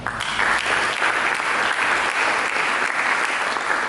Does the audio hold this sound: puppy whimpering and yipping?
no